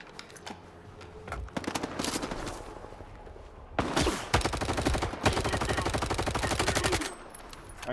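Video game firefight gunfire, scattered shots building into rapid automatic bursts, with a long, loud, fast-rattling stream near the end, fairly close and heard alone.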